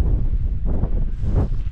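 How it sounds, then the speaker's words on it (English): A bitter, strong wind blows through the Lake District at night, rumbling loudly and steadily against the microphone in close, continuous gusts. "it's so windy"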